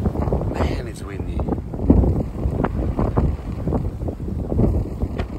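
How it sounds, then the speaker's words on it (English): Strong wind gusts buffet the microphone on a roof being tiled, in uneven, rumbling bursts, swelling and easing throughout the clip. "Man, it's windy out here!"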